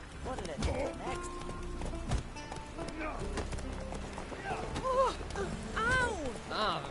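Roach the horse gallops in The Witcher 3, hooves clip-clopping in a quick steady rhythm close by, while voices talk over the hoofbeats and game music.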